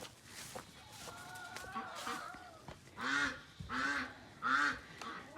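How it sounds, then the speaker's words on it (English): Ducks honk and quack at a muddy farm coop during evening chores. A few scattered calls come first, then three loud, close honking bursts near the end over a quiet yard. "I'm gonna go lock the ducks up now."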